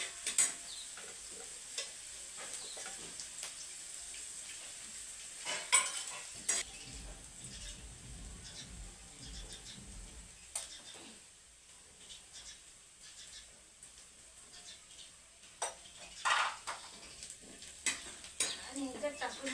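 Onion and garlic cloves frying in a pan for a shrimp chutney, a soft continuous sizzle with intermittent scrapes and stirring clinks of a utensil against the pan, fairly quiet throughout.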